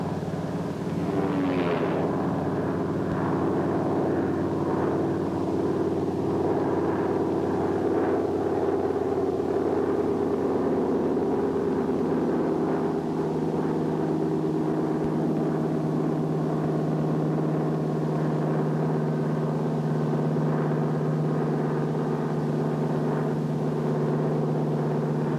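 A Grumman Hellcat fighter plane drones steadily overhead, a sustained propeller engine hum that holds for the full span at moderate level, with a low tone settling in partway through and no talk over it.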